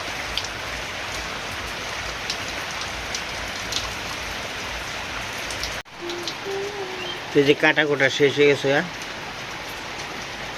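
Steady rain pours down in a continuous hiss, then a person starts talking close by over the falling rain.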